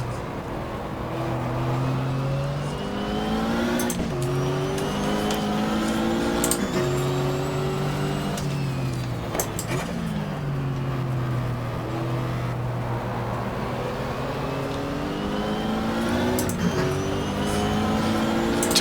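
Race cars circle the track in the GTR2 video game's 1995 Daytona 24 Hour, a steady, continuous engine drone with rising and falling revs as the cars shift gears.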